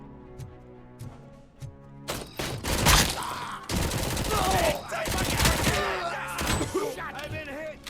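Rapid bursts of automatic fire from a 50-round-magazine gun in the game RoboCop: Rogue City, loud, close and dense for several seconds, with impacts, clanks and in-game voices mixed in after a quieter musical opening.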